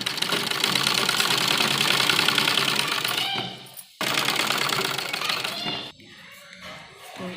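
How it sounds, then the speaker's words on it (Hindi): A sewing machine runs a loose basting stitch along folded buckram at a dupatta-to-kurti neckline, a steady fast mechanical whir in two long bursts with a brief stop between, then quieter fabric handling. "और इसको हम इस तरह फोल्ड करके और एक कच्ची सिलाई हम इसमें लगाएंगे"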